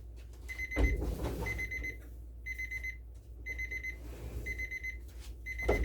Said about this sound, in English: That would be our 45-minute timer.